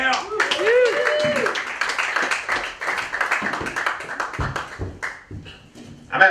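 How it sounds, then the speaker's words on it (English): A comedy-club audience claps and cheers as stand-up comedian Joe Wengert is welcomed onstage at Smodcastle, a loud, dense burst of applause with whoops and a voice calling out over it, tapering before rising again at the end. "please give a big round of applause for him"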